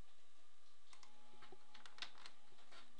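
A computer keyboard pressed for Control V, a few light, quick key clicks close and quiet in an otherwise still room.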